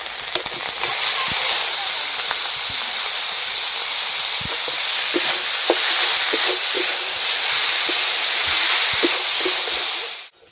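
Grated pointed gourd goes into a pan of onion, ginger and garlic paste and fries with a steady, loud sizzling hiss that runs unbroken for about ten seconds. Faint scattered clicks from stirring sit over it before it cuts off abruptly.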